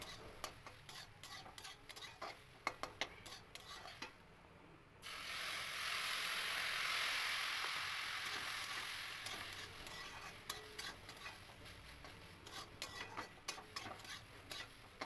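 A spoon stirs cooked semolina (suji) pulao in a pan, giving faint repeated scraping and clicking strokes with a louder, steadier burst of scraping in the middle.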